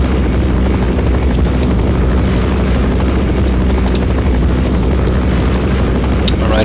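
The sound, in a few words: Black Hawk helicopter in Counter-Strike: Source video game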